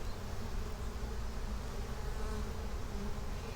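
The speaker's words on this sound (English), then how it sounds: "are they swarming around like they are right now" Honey bees swarm around an open beehive during an inspection, a dense, steady buzzing drone that fills the clip without pause, close and fairly loud.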